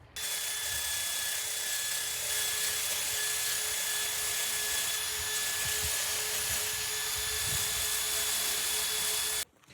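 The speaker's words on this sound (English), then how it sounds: "It doesn't really seem to de-rust very well with a wire wheel" Wire wheel on a power tool scrubbing flaky rust off a cast steel Toyota MR2 brake caliper, a steady loud whining grind with rough scraping texture lasting nearly ten seconds, then stopping abruptly.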